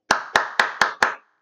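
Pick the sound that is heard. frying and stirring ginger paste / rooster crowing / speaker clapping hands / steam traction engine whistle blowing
speaker clapping hands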